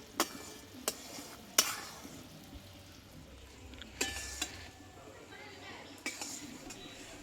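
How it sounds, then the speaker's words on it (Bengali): Sugar stirred and melted in a pan while making flour-based sweets, with a spoon scraping and clinking against the metal in irregular knocks over a soft, low sizzle, close by. "ভালোভাবে চিনিটাকে আমি গলিয়ে নেব"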